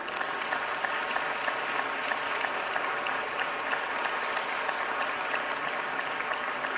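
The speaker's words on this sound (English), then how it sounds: "I would like the Congress to really applaud Hanna Kanius and Yauheni Vilski." A party congress audience applauds steadily, dense even clapping from a large hall crowd, sustained at a constant level throughout with no pauses.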